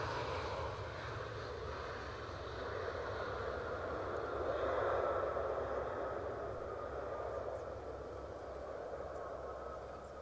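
A British Airways airliner from Heathrow landing at Edinburgh airport, heard as a faint, distant engine rumble that stays fairly even and swells slightly midway.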